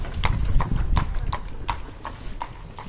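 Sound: horse-drawn carriage clip-clopping in Sarajevo

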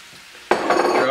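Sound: onions dropped into hot oil in a pan, sizzling

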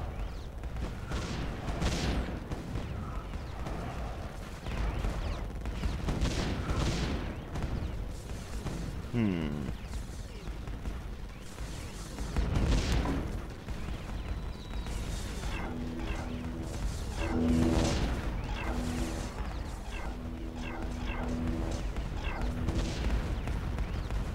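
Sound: missile turrets and cannons firing in Defense Grid video game

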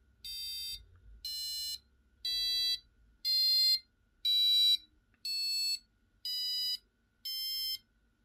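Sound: Arduino passive buzzer beeping two tones

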